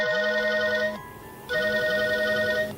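A cellphone ringtone plays loud and close as a bright repeating electronic melody, pausing briefly in the middle before starting again, with no talking.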